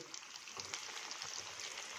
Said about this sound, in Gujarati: હવે બીજા પણ આવી રીતે તળી લઈએ.